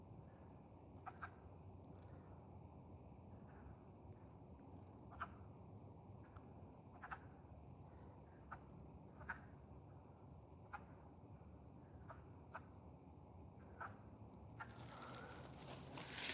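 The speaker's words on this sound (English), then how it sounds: "I hear peepers and birds." High, thin repeated peeps from spring peeper frogs calling at irregular intervals, faint and distant over a quiet hiss, with a louder rustle near the end.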